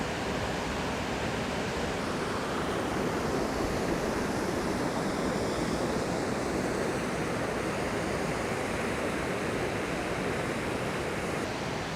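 A Wensleydale waterfall over layered limestone and shale roars in a steady, broadband rush. It stays loud and unbroken throughout, with no voices.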